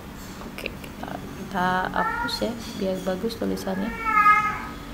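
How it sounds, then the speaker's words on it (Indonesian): A cat meows in the background, several drawn-out calls rising over a person speaking in a quiet indoor room while a chemistry lesson is being explained. "ini ada suara kucing di belakang"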